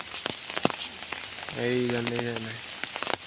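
Heavy rain falls on an empty village road, a steady soft hiss throughout with scattered drop taps, while a person talks nearby.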